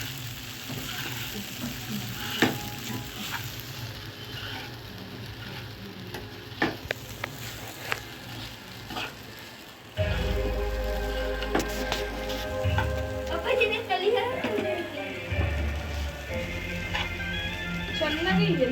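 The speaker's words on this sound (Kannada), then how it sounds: "ಫ್ಲೇಮ್ನ ಕಮ್ಮಿ ಇಟ್ಕೊಂಡು ಚೆನ್ನಾಗಿ ಮಿಕ್ಸ್ ಮಾಡ್ಕೊಳ್ಳಿ" Soaked sabudana being stirred in a frying pan on a low flame for khichdi, a soft continuous sizzle broken by scraping clicks of the spoon, with a voice talking over parts of it.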